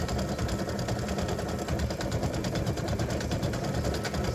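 An embroidery machine stitches out a freestanding lace candy cane earring, a steady, fast mechanical chatter with a constant motor hum running evenly throughout at close range.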